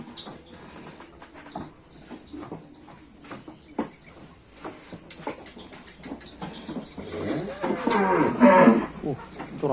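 Cattle moo loudly and repeatedly at close range, Sapudi island racing bulls readied for a kerapan sapi bull race, the calls swelling toward the end over a busy outdoor crowd murmur.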